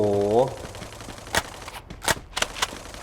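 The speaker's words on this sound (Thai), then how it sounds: "ผมยิงไม่แม่นหรือว่าปืนไม่ดี" Gunfire in a mobile shooting game played on an OPPO A17 phone, heard as a few sharp, scattered shots and short bursts after a brief electronic tone, with game audio around them.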